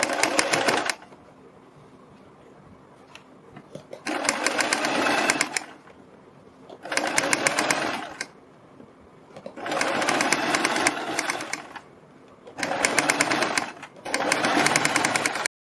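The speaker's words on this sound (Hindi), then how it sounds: "इसी तरह से हम दूसरी साइड की पट्टी पर भी सिलाई लगाएंगे।" A sewing machine stitching a strip onto a boat neckline runs in five bursts of rapid whirring, each lasting one to two seconds, separated by near-silent pauses, with the motor close and clear.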